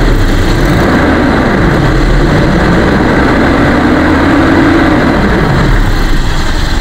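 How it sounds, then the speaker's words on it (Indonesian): A 1998 Toyota Kijang LGX engine idles smoothly and steadily, a constant low rumble up close with no other sounds. "Suaranya, mesinnya halus, khasnya Kijang seperti ini."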